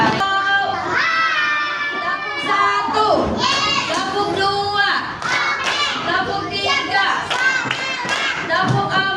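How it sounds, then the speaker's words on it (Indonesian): Children clap together in a lively classroom while young voices chatter and call out over the applause, busy and close throughout. "Hebat, tepuk tangan."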